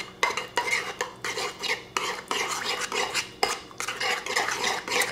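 Utensil scraping and clinking against a bowl as sake is stirred into a sauce, a steady run of short, loud strokes close by with no talk.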